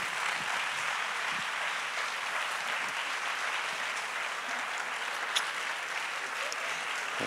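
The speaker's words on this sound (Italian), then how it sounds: "Allora facciamo un grande applauso a Luciana Savignano." An audience at a dance talk event applauds ballerina Luciana Savignano, producing a steady, even wash of clapping from a sizeable crowd that holds at moderate volume throughout.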